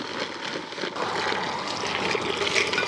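Water is poured into a bucket of priming slurry mix for bedding patio slabs, a continuous close splashing gush that runs for a few seconds without talk.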